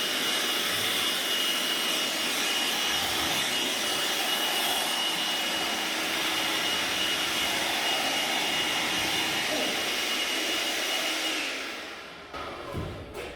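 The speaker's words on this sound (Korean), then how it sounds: "송풍기를 사용해서 1차적으로 물기를 제거해 주시면은" Air blower drying water off a freshly washed car, a loud steady rushing roar held close for most of the stretch before it cuts off and drops near the end.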